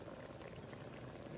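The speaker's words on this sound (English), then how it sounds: "nicely bubbling now, so" Seafood soup sauce for cacciucco bubbling steadily in a pot, a dense, continuous simmering fizz and popping close by with no voices.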